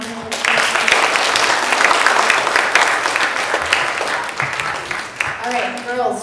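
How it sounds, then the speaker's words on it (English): A church audience claps in sustained applause after a Sunday service presentation, a dense steady roar of hands from a crowd with voices mixed in, thinning near the end as a speaker's voice comes through. "Can we give them all one more round of applause?"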